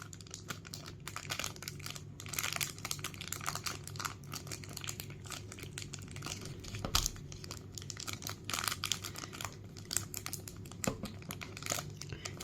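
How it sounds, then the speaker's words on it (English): Plastic and cardboard packaging of a Bugatti diecast model car being crinkled and torn open, an irregular run of close, crackling crunches and tears with no speech. "Let me unbox this."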